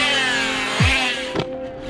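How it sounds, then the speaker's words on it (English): Arrma Talion 6s RC car with a bent drive shaft making a harsh, buzzing motor whine with a quick downward pitch sweep and a short burst, loud and close outdoors. "Got a bent drive shaft. That's all that noise is."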